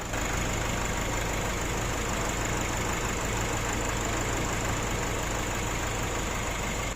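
A repossessed car's engine idles in a steady, even hum, close and continuous with a faint high whine above it and no talk.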